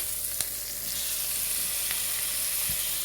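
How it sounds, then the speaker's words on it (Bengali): Chopped garlic fries lightly in a pan with a steady, even sizzling hiss and a couple of faint clicks from the utensil. "এখানে একটু একটু হালকা করে ভেজে নিব"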